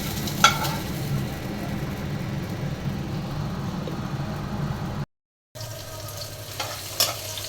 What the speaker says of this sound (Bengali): তরকারি রান্নার জন্য পেঁয়াজটা দিয়ে দিলাম